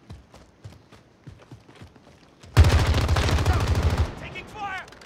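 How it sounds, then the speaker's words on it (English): In a battle royale video game, soft footsteps give way to a sudden loud burst of rapid automatic gunfire lasting over a second, then a voice speaks as it ends. "Taking fire!"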